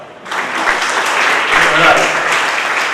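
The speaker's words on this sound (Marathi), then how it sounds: "टाळ्या वाजवा" Audience applause at a college foundation day ceremony, a steady wash of clapping from many hands that swells and holds close throughout, with a brief voice underneath.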